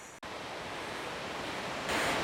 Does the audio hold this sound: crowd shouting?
no